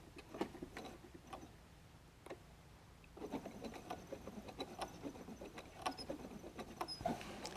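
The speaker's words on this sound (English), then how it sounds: "I'm just going to sew straight through all the layers now" A sewing machine stitches straight through layers of fabric-covered clothesline rope in a basket, with a quiet, steady mechanical patter. It starts sparse and grows denser and more continuous, running back and forth.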